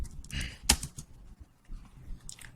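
Code being typed on a computer keyboard: a run of quick, uneven key clicks with one sharper, louder keystroke, close and moderately quiet, with no voice.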